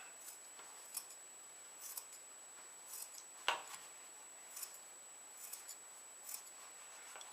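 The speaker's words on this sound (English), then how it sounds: "or do it like this with scissors." Scissors snipping fleece from a hide around the edge of a piece for Woodland Indian center seam moccasins, with soft, close, quiet cuts and rustles recurring about every second, one sharper snip in the middle.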